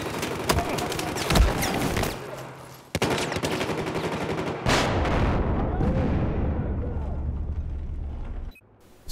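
Video game gunfire roars in dense, rapid bursts, heavy and loud, with machine-gun rattle and booming shots that run almost without a break and cut off near the end.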